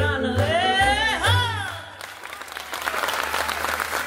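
Audience applause for the orchestra at a Romanian folk album launch concert, a dense wash of clapping that swells after a sung, drawn-out voice at the start and continues steadily, with background instruments underneath.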